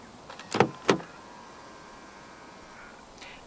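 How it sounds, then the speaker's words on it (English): Denza D9 locking via the front door handle button, two quick close mechanical clunks from the lock actuators, then quiet. "To lock the car, press the button on any of the front door handles."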